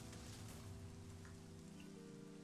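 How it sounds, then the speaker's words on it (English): Steady rain falls in the Minecraft video game, a dense, continuous hiss that stays close and even, with low droning tones underneath and no voices. "It is raining and exploding and things are happening."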